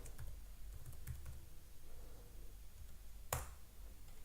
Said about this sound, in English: try to type something